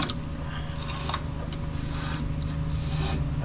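A drive belt on a 1969 Ford F250 engine rasps and rubs against a hose as the engine is turned over slowly by hand, a steady close scraping with brief brighter swishes.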